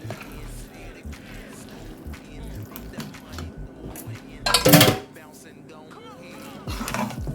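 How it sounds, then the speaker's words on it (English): Dry macaroni being tipped into a pot on a switched-off stove and stirred into a thick cheese sauce for smoky bacon mac and cheese, with scraping and clinking throughout and a louder rattling burst midway. "I'm gonna add my macaroni to the pot. The stove is off. Mix our cheese sauce"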